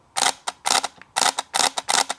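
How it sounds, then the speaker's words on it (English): A Canon EOS M6 Mark II mirrorless camera fires its shutter five times in steady succession, each a crisp double-clack held close to the microphone, with nothing else audible. "I'll just hold this up to my mic real quick and take a snap photo of it."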